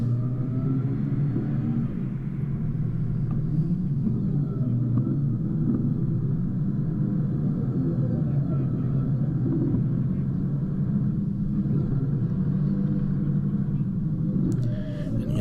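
A 4WD car grinds up a steep forest track in Stanley Forest while a winch cable pulls it, giving a loud continuous low engine rumble and drone that hardly changes over time.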